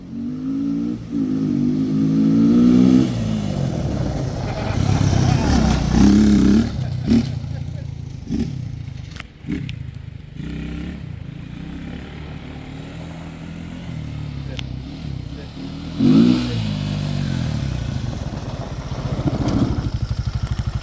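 A 1987 Honda 200X ATC three-wheeler engine running and revving outdoors, a mid-pitched motor rising and falling in bursts, with people talking over it.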